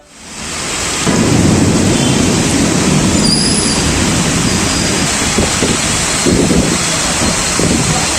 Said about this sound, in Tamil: இடி மின்னலுடன் பலத்த மழை பெய்தது.